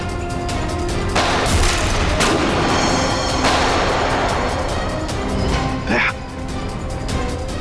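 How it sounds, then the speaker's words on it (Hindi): Heavy, booming gunshots crash in repeated bursts, loud and close, with a continuous roar of noise between them and a brief voice-like sound near the end. "गोलियां चला कौन रहा है?"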